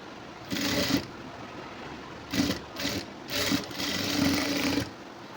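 A sewing machine stitching a high neck blouse runs in several short bursts of rapid mechanical chatter, the longest near the end, close up between quieter pauses with no talking.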